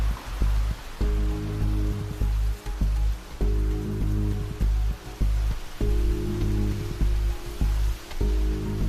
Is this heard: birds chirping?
no